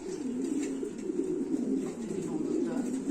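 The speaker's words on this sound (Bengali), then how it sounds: "এগুলো হচ্ছে থাইল্যান্ডের কিং কবুতর" Thai King pigeons coo in a low, rolling warble, repeating in close steady phrases with faint bird chirps in the background.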